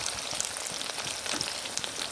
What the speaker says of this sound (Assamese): এয়া মোৰ পিঁয়াজ ভাজা ৰঙচুৱা হৈ গ'ল